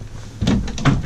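A large kitchen drawer in a 1999 Beaver Contessa motorhome slides and shuts, making two close, solid thumps in quick succession after a quiet moment.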